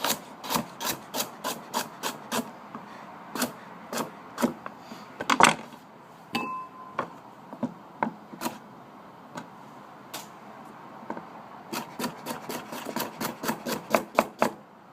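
A knife chops peeled carrots at an angle on a cutting board, giving a steady series of crisp, close taps. Quick runs of chops are broken by short pauses, and one slightly louder knock comes midway.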